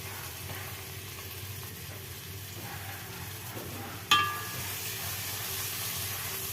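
Chicken roast fries and is stirred in a pan over a country-style hearth, a steady close sizzle broken once by a sharp metallic clink of the spoon against the pan.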